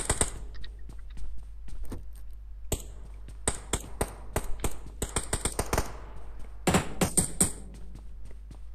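Gunfire in PUBG Mobile comes as sharp, clipped cracks, some single and some in rapid bursts, set over a low steady hum with quiet gaps between volleys.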